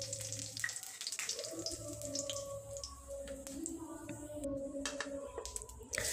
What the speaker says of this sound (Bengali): তারপর আবারও সরষের তেল দিয়ে দেব ফোড়নে তেজপাতা, শুকনো লঙ্কা, গোটা জিরে আর গোটা গরম মশলা।